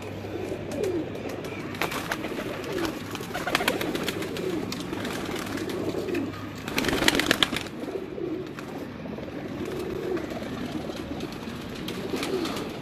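Pigeons coo repeatedly on a rooftop, soft rolling calls layered over a steady outdoor hum, with a brief burst of wing flapping or rustle near the middle and no talking.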